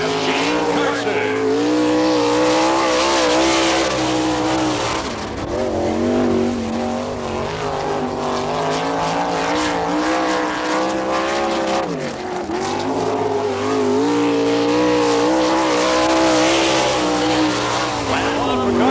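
A sprint car at an NCRA All Stars race in Eagle, Nebraska roars around the track at full throttle, its engine note rising and falling through the laps, loud and continuous, with an announcer talking over it.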